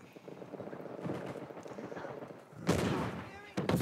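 Bursts of gunfire in an Uncharted 4 multiplayer team deathmatch, two loud broadband blasts near the end following a stretch of players talking.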